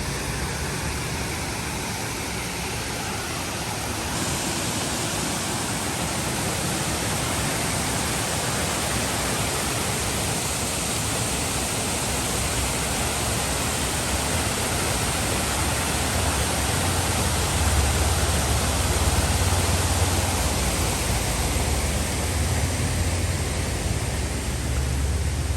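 Waterfall and creek flowing at an outdoor beer garden in Gatlinburg, Tennessee, a loud constant broadband roar of rushing water, unbroken and close throughout with no voices.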